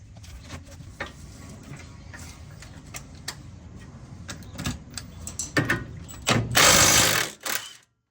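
Ratchet working on a car's lower control arm bolt, a run of close mechanical clicks that grows louder and faster, ending with a burst of harsh metallic grinding.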